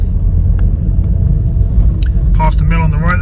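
A car pulls slowly into a car park, a constant low rumble of engine and tyres close by, with a few light clicks and someone talking over it toward the end.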